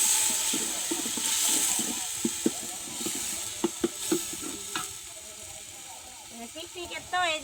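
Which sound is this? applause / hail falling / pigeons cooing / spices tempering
spices tempering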